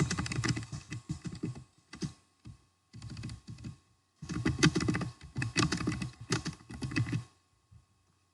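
Rapid clicking of a computer keyboard as code is typed, coming in several bursts of keystrokes separated by short pauses, close and clear with no talking.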